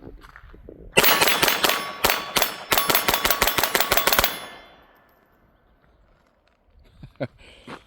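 A Taurus TX22 Gen 2 pistol fires cheap waxy Armscor .22 ammunition in a fast string of about fifteen sharp, loud cracks over roughly three seconds, then quiet with a few faint handling noises.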